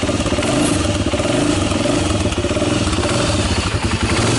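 The engine of a 1996 Honda TRX300EX ATV, fitted with a fresh carburetor, runs continuously nearby with a loud, steady, rough idle and a constant rapid clattering pulse, with no talking.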